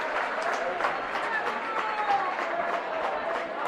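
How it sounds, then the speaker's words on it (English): Crowd in a gym applauding at a varsity girls' postseason basketball game, a steady dense wash of clapping with faint voices mixed in. "Round of applause from the crowd for everybody getting up after that collision."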